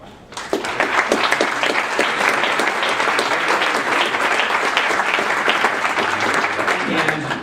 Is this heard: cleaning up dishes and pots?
no